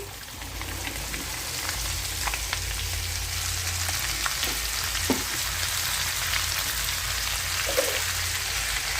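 Okra fries on high heat in a pan with a continuous, even sizzle and a few faint clicks and pops scattered through it. No voices are heard.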